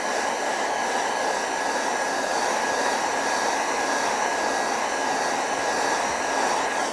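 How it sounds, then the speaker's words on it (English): An old hairdryer blows a steady, loud, even roar with a faint high whine as it dries a painting, running continuously without talk. "the old hairdryer, give it a bit of a blast"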